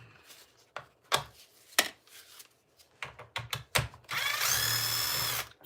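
A power drill backs screws out of the front end of a wrecked RC car: a few sharp clicks and short bursts come first, then a loud, sustained whir up close near the end.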